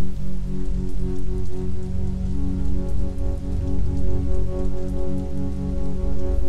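Steady rain pouring down on the water near Randall's Island, New York, with a boat moving through it; a dense continuous hiss with low rumble beneath, constant and fairly loud with no voices.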